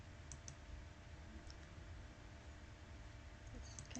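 Several faint mouse clicks on a computer during accounting software setup, scattered light ticks over a steady low room hum.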